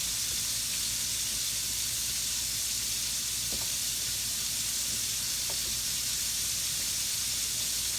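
Catfish fries in hot oil with a steady, close sizzle and hiss that runs the whole time, with a couple of faint clicks partway through and no one talking.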